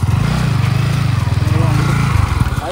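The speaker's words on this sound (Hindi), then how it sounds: "ये चेक करो भाई, आशुतोष जा रहा R15 नई वाली" A new Yamaha R15 sport motorcycle passes close by, its engine giving a loud, pulsing drone with a steady rhythmic throb that fades slightly at the end as it moves off.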